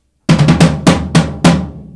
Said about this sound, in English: This floor tom over here, this big old 14-inch floor tom,